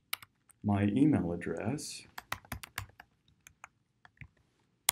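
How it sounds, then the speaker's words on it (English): Quick bursts of typing on a computer keyboard while entering login details, with light clicky keystrokes after someone speaks briefly. "So I click on login, and then I type in"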